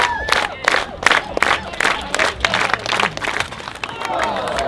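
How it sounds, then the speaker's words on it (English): Crowd at a talent-show stunt performance claps in rhythm, loud regular hand claps with whoops and shouted voices mixed in, close and energetic. "Everybody clap."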